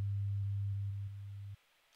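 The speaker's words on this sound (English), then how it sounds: "will hear a 100 Hz sine wave" A pure 100 Hz sine test tone, a loud steady low hum that steps down in level twice as a second copy shifts out of phase, then cuts off abruptly into near silence.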